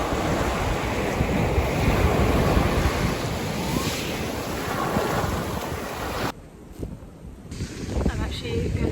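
Cold sea surf rolls in at a beach, a steady loud wash of breaking waves with heavy wind buffeting the microphone, easing briefly near the end.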